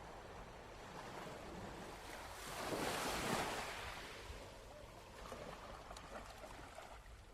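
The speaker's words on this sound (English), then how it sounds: "listen to the way the waves break on the shore." Ocean waves break on a beach, a soft surging wash that swells to a peak midway and then recedes, with faint wind noise and no voices.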